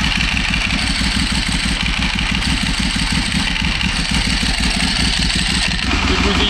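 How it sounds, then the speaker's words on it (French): A motorcycle engine runs steadily at a track day on the Bresse circuit, with gearbox noise in a close, continuous low throb that pulses evenly throughout. "C'est ta boîte qui fait le bruit."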